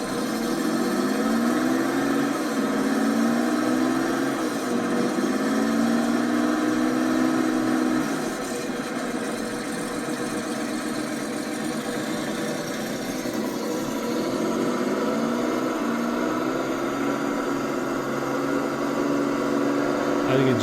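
A Tucker car engine, from the personal car of Preston Tucker, runs at a steady idle with a low mechanical drone and slow recurring rises in pitch.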